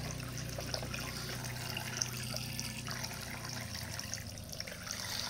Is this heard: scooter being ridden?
no